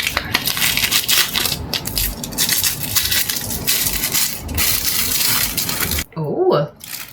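Crinkly paper wrapping being torn open around a small bracelet charm, a dense, steady rustling and crushing close by for about six seconds, then a brief pause and a short low voice near the end.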